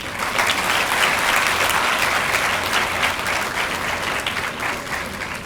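Sustained applause from an audience at a university book launch, steady and dense throughout, with no talking over it.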